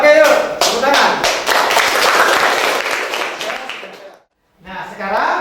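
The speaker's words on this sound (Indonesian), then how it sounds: "Tepuk tangan." A classroom group claps hands together in a dense, loud burst of overlapping claps that tapers off, falls silent briefly, then starts up again near the end.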